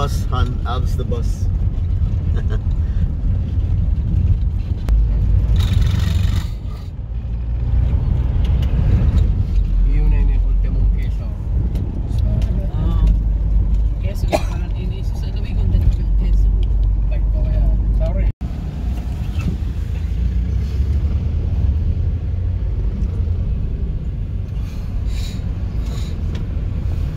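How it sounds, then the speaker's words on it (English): Dense road traffic on the drive toward Legazpi in Bicol, Philippines, heard from inside a car as a constant low engine and tyre rumble with vehicles passing close by, a brief lull midway, and people talking over it. "Into traffic again, hon. Traffic again, heavy traffic."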